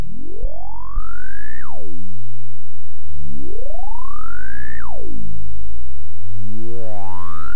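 A VCV Rack synth patch with a feedback loop and distortion sends out loud swooping tones, each rising in pitch and then dropping sharply, three sweeps in a row with buzzy harmonics and no voices.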